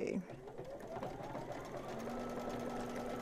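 An embroidery sewing machine stitches the leg outline of an in-the-hoop dog softie in a triple reinforcing stitch, giving a steady, close, continuous whirring hum with a rising motor tone under occasional speech.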